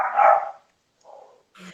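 A neighbour's dogs bark: one loud close bark, then two softer, shorter barks after a pause, with no talk.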